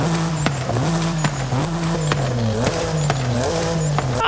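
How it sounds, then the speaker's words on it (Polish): A BMW M3 G80 engine in the racing game Forza Horizon 5, loud and close with repeated revving rises and drops between gear shifts, a steady drone punctuated by sharp shift blips. "I tak, furka brzmi sobie."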